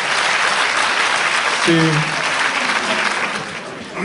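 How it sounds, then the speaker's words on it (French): An audience at a popular-university lecture applauds, a dense continuous wash of clapping that fades slightly toward the end, while a voice briefly speaks over it. "On vous applaudit."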